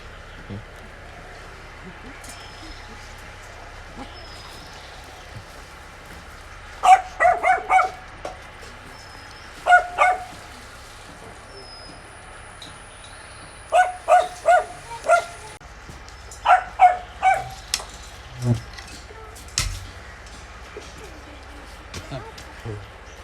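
A dog barks in short repeated bursts of two to four sharp yaps, fairly close, separated by quiet pauses, with a person speaking briefly in between.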